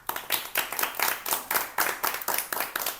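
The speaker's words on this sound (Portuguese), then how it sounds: "uma salva de palmas para vocês" Students and teachers at a school podcast recording clapping, a small group's distinct, fairly rhythmic claps close by, with no talking.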